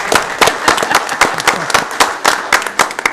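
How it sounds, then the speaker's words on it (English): Dense, close applause from an audience at a city council meeting, many hands clapping briskly and steadily for about three seconds with no voices over it. "Let's give him a round of applause."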